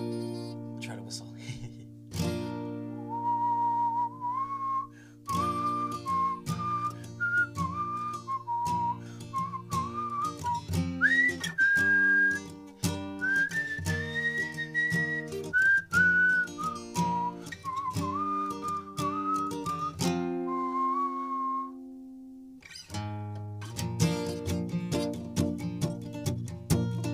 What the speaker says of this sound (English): Try to whistle.